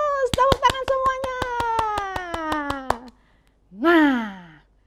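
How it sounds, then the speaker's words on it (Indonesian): Rapid steady clapping of hands, about a dozen sharp claps in a row alongside a sustained sung or chanted tone, then a brief pause and a short vocal exclamation; children in a Sunday school service. "tepuk tangan semuanya"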